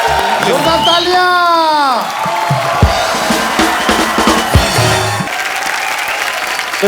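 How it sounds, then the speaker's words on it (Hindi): A studio audience on The Kapil Sharma Show bursts into applause and cheering, with whoops and a rising crowd roar sounding together with a tonal musical sting, and the noise carrying on for several seconds. "जोरदार तालियां"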